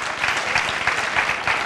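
A church congregation applauds with dense, steady clapping from many hands filling the room at moderate loudness, a brief spell of continuous applause with no talking on top.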